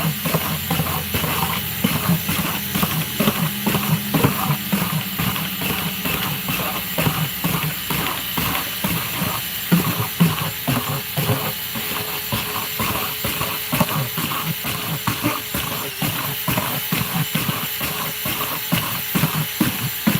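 Plastic bucket being perforated for a stacked worm bin tower, heard as a rapid series of sharp ratcheting clicks and crackles, close and steady throughout with a hissing background and no talking.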